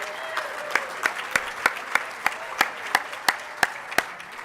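Applause from an awards ceremony audience as a radio station is named Station of the Year, a steady bed of clapping punctuated by a regular series of sharp, louder claps, with no talk over it.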